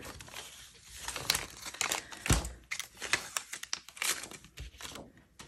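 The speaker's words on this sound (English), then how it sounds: "I take off my tape here" Tape being peeled off a handmade card, a run of close crinkly rips and crackles in short uneven bursts with small sharp snaps, no talking.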